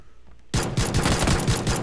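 Rapid bursts of automatic gunfire in PUBG, loud and close, starting abruptly after a quiet moment and rattling on in quick repeated shots.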